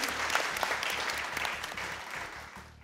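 Studio audience applauding on a Pakistani TV talk show, a dense, steady wash of many hands clapping at close range that fades a little toward the end.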